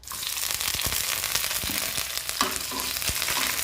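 Chopped onion with mustard seeds frying in hot coconut oil gives a steady loud sizzle with scattered pops and crackles throughout, close up.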